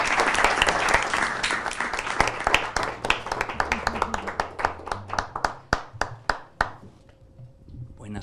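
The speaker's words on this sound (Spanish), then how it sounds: "Un aplauso para ellos" An audience at a music therapy panel session applauds, dense clapping that thins into a handful of separate, sharp claps before fading, with a faint tone lingering at the end.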